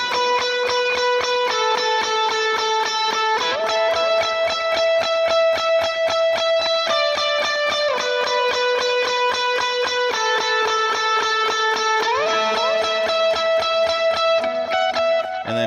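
Lead guitar plays the bridge of a worship song with a slightly driven, effected tone. It moves through sustained bent and sliding melodic notes in a steady, continuous loud phrase with no talking.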